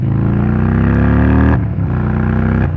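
An Indian Chief Bobber motorcycle accelerates hard, its loud engine winding up steadily before a brief shift and more pulling, heard up close and without talking.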